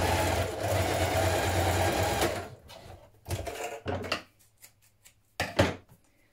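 A sewing machine stitches armhole binding and strap, running in a steady close whir for about two seconds, then several short bursts of stitching separated by pauses.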